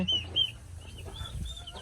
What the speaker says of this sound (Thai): ลูกไก่เยอะแยะไปหมดเลยค่ะทุกคน